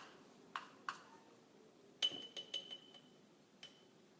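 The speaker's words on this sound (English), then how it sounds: "So here's about 1 ounce of the coconut oil. Put it in the mason jar." Coconut oil dropped into a glass mason jar, giving a few soft, separate clinks and taps of glass, quiet and spaced out with no talking.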